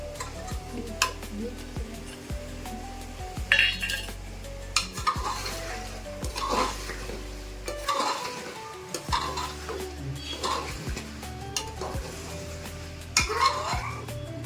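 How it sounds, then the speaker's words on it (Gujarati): Chopped carrot and beetroot are stirred into a pan for paneer pulao, with a spoon scraping and clinking against the pan in repeated strokes over a soft sizzle, near and fairly quiet. "હવે ને આમાં આપણે સુધારેલા ગાજર ને બીટ એડ કરી દઈશું."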